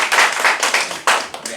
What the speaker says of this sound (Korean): 감사의 박수 드릴게요.